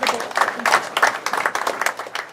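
Applause from a crowd at a school board meeting, honouring retirees of Boonville High School: dense, steady clapping from many hands, fairly close, filling the whole short stretch without a break.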